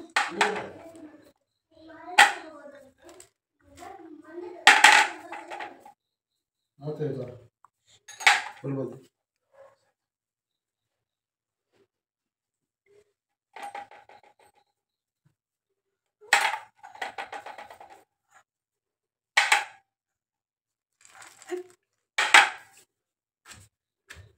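Peanuts with chilli powder, salt and cumin are pounded in a mortar, giving sharp clacking knocks in uneven bursts with long pauses, close and clear.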